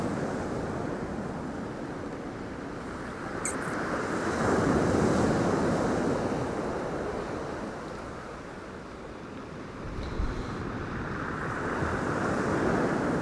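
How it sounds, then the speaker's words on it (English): Waves of a wild sea crashing on Hornsea beach on the UK east coast: a continuous roaring wash of surf mixed with wind buffeting the microphone, swelling and easing, with no talk. "to say how wild the sea is"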